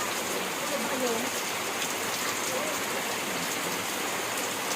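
Steady morning rain falls in an even, dense hiss that holds at a constant level throughout, with faint tonal traces of a voice or other sound buried beneath the wash.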